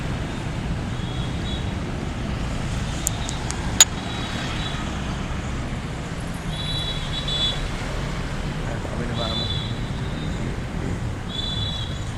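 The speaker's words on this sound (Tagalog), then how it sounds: "Daming sasakyan." Traffic on Osmeña Street in Cagayan de Oro City gives a continuous roadway rumble of many cars, with occasional horn-like tones and a sharp click standing out.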